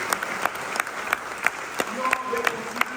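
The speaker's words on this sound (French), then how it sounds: "Vous pouvez l'applaudir." A congregation at the Christ the King feast in the church of Saint Jean Baptiste du Moule applauds, with sharp claps landing in a steady rhythm over a crowd murmur. A faint voice or tone rises near the end.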